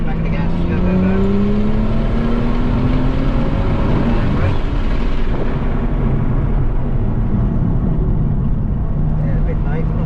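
A BMW M2 powers along a race track at Florida International Rally & Motorsport Park, its engine droning loudly and rising in pitch under acceleration, with a voice talking over the continuous roar.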